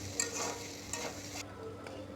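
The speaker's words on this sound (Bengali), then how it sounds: "ভালো করে ভেজে নিচ্ছি।" A spiced filling with red chilli powder, garlic powder and cumin fries in a pan, a faint, steady sizzle broken by a few soft stirring scrapes.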